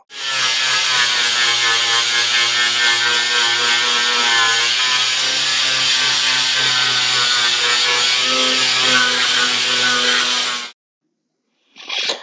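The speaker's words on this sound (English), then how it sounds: "And talking of sanding, this is what we did, sanded it all." Continuous abrasive rasping of sanding on pallet wood planks, loud and steady for about ten seconds, then a brief pause and a short burst.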